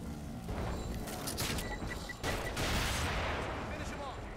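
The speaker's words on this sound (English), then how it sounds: "Shoot him again. With a rifle." Rifle fire from The Evil Within video game sounds as faint, dense, rapid cracks layered together, with a voice talking over the shooting throughout.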